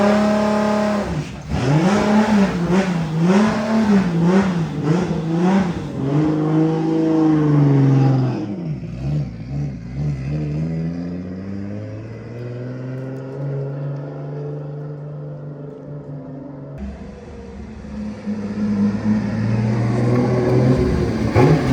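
A Nissan S14 with a 1.5JZ engine driven hard, engine climbing and falling through repeated loud revs and gear pulls, then settling into a lower steady drone before revving up again near the end.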